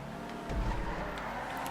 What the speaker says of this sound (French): Par contre, elle accélère vite.